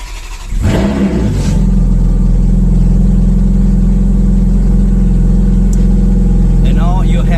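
A Ferrari 430 fires up after sitting through winter: a sharp starter crank and ignition burst, then a loud, steady, close engine rumble that holds high and even, as if revving and settling.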